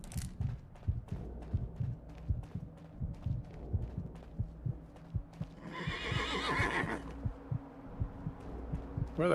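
A horse in the video game Fallout: London gives one clear whinny partway through, over a steady beat of low, regular thumps.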